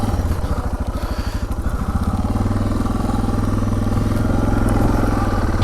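A Suzuki DR650 motorcycle engine chugs at low revs up a steep, messy trail, a steady loud thumping pulse that holds on alone without speech.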